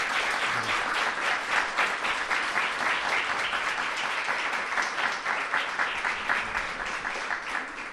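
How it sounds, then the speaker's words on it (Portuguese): Audience applause on a podcast recording, a steady, even wash of many hands clapping at moderate level, continuing unbroken without speech. "Uma salva de palmas."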